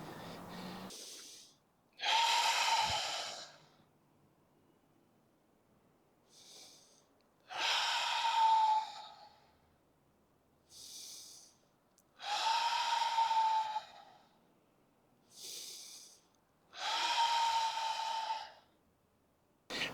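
Forceful breaths during a Hung Gar qi gong 'Taming the Tiger' exercise: five or six loud, airy exhalations and inhalations, each lasting one to two seconds, paced steadily with short quiet pauses between them.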